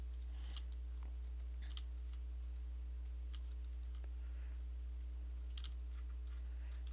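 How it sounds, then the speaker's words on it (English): Keyboard key presses from a bracket-key brush shortcut while coloring comic pages digitally: sparse, quiet clicks scattered irregularly through steady low electrical hum, with no talking. "Shrink the brush with the bracket key on my keyboard."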